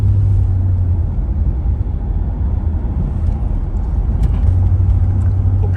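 A car drives along Ridge Road in winter and pulls into the village, with a steady, close, low in-cabin road rumble that stays even throughout and has no talking.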